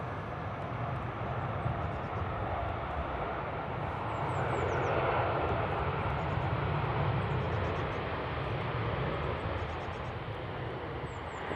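A TUI aircraft lands at Manchester Airport, its engine roar a broad, fairly distant rumble that swells a little in the middle and then eases, with faint bird chirps above.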